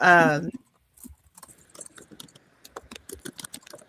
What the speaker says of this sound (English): That's all y'all hear, isn't it? Is a bunch of typing.